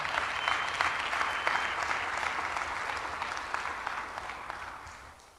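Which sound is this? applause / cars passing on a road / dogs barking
applause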